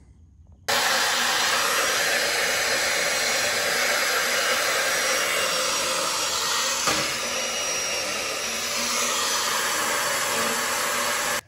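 A Milwaukee portable bandsaw with a 5-inch cutting capacity cuts through a metal post for a solar panel ground mount, giving a loud, steady whirring drone that starts abruptly and runs unbroken to the end, with no talking.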